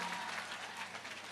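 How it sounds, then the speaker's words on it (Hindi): An audience at a Hindu temple consecration festival in Gurugram, where children are handed school bags, breaks into sustained, dense applause of thanks that holds steady and then gently tapers. "एपी ग्रुप को जोरदार ताली बजा के धन्यवाद दो"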